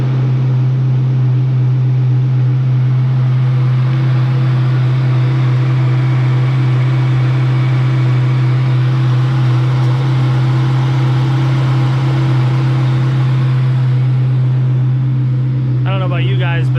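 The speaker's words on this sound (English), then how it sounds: "we're gonna get this started up, and we're gonna see if our belt noise is gone" A 2003–2004 Mustang Mach 1 engine idles steadily at close range after a belt and pulley replacement, a constant low hum with mechanical whir, and a voice briefly begins speaking near the end.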